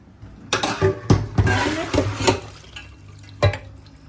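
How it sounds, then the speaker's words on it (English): Soaking water from half a kilo of black beans is drained off, heard as uneven splashes, drips and pours into a sink, with a few sharp knocks from the pot. "So this water is not good, you have to throw away, so we're gonna drain it."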